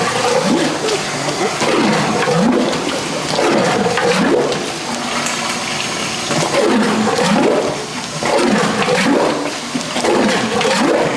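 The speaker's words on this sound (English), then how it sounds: "now we're gonna pull the plunger out, let all the water go, and then we're gonna force it down" Water rushes and gurgles loudly out of a toilet bowl as a plunger is pulled free, with repeated swirling, draining surges in a rhythmic pattern, close up and continuous.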